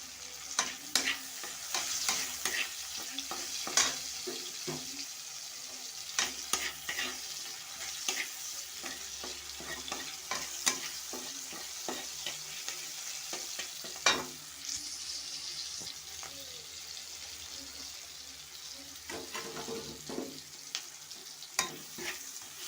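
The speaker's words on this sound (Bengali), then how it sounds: "দেখো পেঁয়াজ লঙ্কাটা দিয়ে দিচ্ছি আমি" Onion and green chili fry in oil while being stirred, a soft steady sizzle broken by frequent scraping and clattering strokes of a spatula against the pan, fairly close and without talk.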